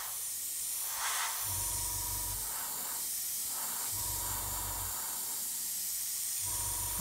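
An airbrush sprays paint in a steady, continuous hiss lasting throughout, close and fairly loud, with a low compressor hum pulsing on and off underneath.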